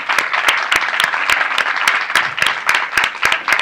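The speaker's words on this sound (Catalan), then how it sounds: "I un aplaudiment per ella." An audience at an award ceremony for the Setmana del Llibre en Català book fair claps for a prize winner, brisk scattered applause of a modest crowd, close and steady throughout.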